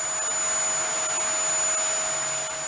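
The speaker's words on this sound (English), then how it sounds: "you can then take your vacuum cleaner and get rid of all the smaller bits" A handheld vacuum cleaner cleans the lint filter of a Hotpoint Aquarius tumble dryer, a loud, steady high-pitched whine with constant suction noise throughout and no voices.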